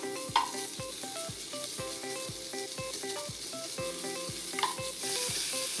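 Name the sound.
pork sizzling while browning in a frying pan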